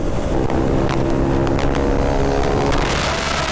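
A KTM Duke motorcycle with an open muffler exhaust runs steadily and loudly, with a continuous engine drone and brief sharper bursts throughout; no voices.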